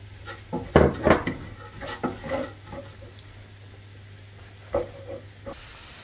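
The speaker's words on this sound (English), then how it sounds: "lastly is my cauliflower now which I've grated and I'm going to add it all" Grated cauliflower lands in a hot pan with a loud sudden sizzle, then several clattering scrapes and stirs as the hiss settles into a quieter fry, with one more sharp clank near the end.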